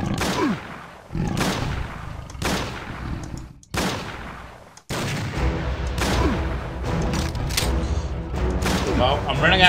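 Gunshots in the video game Heaven Dust, several separate loud blasts at irregular intervals, each with a short decay, followed by denser shooting and game sound toward the end.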